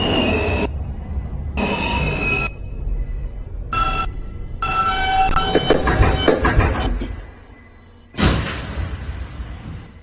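Wheels of a Queens-bound N local train on the New York subway squeal loudly in several piercing, sustained bursts, broken by short gaps, over a rumbling rail roar.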